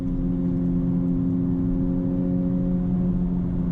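A 2021 Honda Civic Type R engine hums steadily while driving, a low constant drone with road noise and no voices, moderately loud from inside the car.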